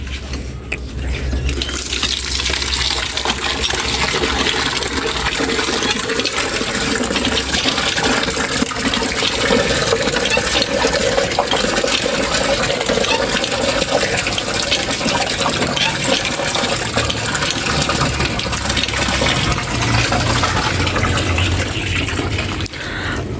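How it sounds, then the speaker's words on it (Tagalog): Water gushes steadily from a hand-pumped faucet, a continuous loud splashing and rushing that lasts throughout. "ako lang yung nagbubumba dito sa gripo."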